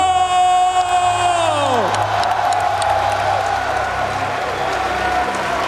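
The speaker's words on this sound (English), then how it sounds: "Listen to the crowd in here." Roaring esports arena crowd cheers at a League of Legends tournament quarterfinal, loud and sustained, with whoops and a descending synth swoosh from the venue sound system fading into the ongoing roar.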